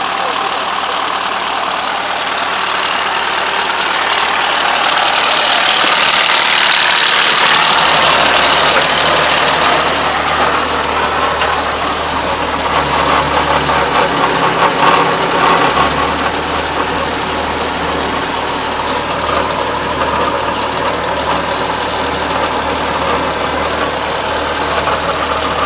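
A Kubota ARN460 combine harvester's engine idles in a steady, loud drone, its pitch lifting slightly partway through and then settling back into a constant hum.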